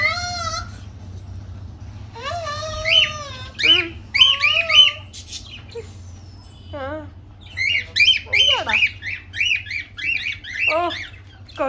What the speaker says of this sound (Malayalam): നമ്മുടെ കോക്കി കേട്ടോ.